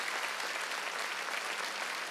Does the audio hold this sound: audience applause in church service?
yes